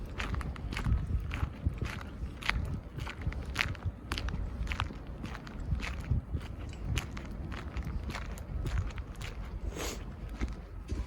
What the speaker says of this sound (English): Maybe you can hear a hollow spot when I walk.